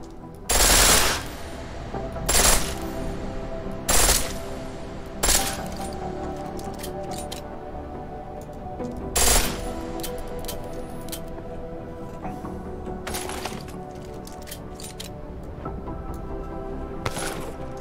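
A pistol fires in full auto in the video game Deus Ex: Mankind Divided, with several short, sharp bursts spaced a few seconds apart over a steady background hum.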